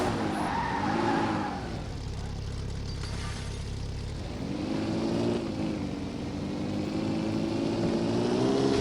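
A Ford Shelby GT skids in the racing game Car Simulator 2, its tires squealing loudly and continuously over a droning engine, with the pitch dipping and rising again midway.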